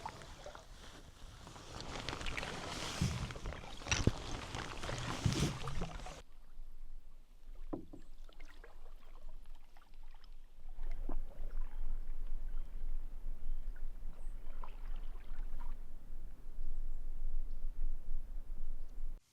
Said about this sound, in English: Very scenic paddle through these waterways.